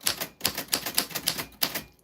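A typewriter clatters through a quick run of about eight crisp key strikes, close and distinct, with short uneven gaps between the clacks.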